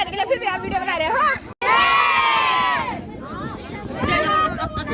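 A dense crowd of devotees cheers and shouts loudly at a procession of the goddess Chandika in Utyasu Jawadi village, with a swelling roar of massed voices, a brief cut, then continued close, energetic shouting.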